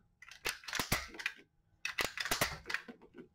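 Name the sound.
clicking of Caldwell MagCharger speedloader loading magazine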